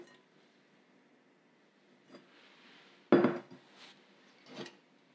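Kitchen pots and utensils are handled, with a few sparse clinks and one louder metallic clang of a medium-sized pot being set down, near and otherwise quiet.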